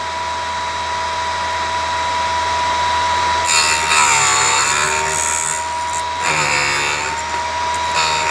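A Vevor drill bit sharpening machine grinds a drill bit, giving two harsh, scraping bursts of grinding over a steady motor hum, the second shorter, close and fairly loud with no talk.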